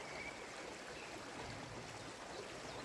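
Shallow river flowing down from a mountain, a steady broadband rush of water at moderate distance with no other sounds standing out.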